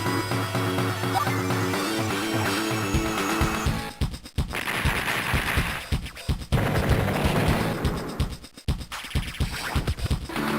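Battleship opening fire in the Advance Wars game, a dense burst of rapid gunfire and crashing blasts layered over busy game music, loud and sustained with brief dropouts between volleys.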